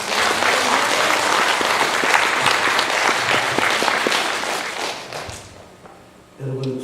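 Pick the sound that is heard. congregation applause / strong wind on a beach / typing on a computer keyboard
congregation applause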